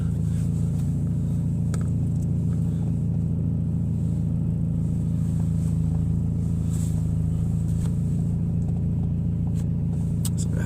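Scion xB with drum brakes on a test drive gives a steady low engine and road rumble throughout, close and continuous, with faint clicks and no talking.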